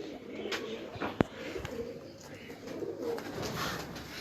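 Pigeons on an Islamabad rooftop coo softly and repeatedly at a moderate distance, low burbling calls over a faint outdoor background with one sharp click partway through.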